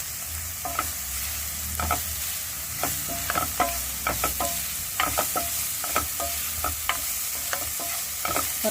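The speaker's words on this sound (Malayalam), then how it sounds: "എല്ലാം കൂടിയിട്ട് ഒന്ന് വഴറ്റാം." Chopped onion and three sliced green chillies being sautéed in a pan, a spoon stirring and scraping in repeated short strokes over a soft, steady sizzle, close and clear with no talking.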